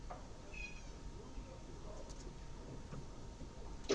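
A pet cat named Tonka gives a short, faint meow or two in a quiet room, low in level against a soft background hiss.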